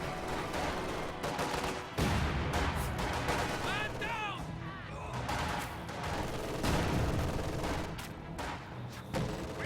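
Mortar firing in the strategy game Company of Heroes amid a steady wash of battlefield gunfire and booms, with game voice lines over the top.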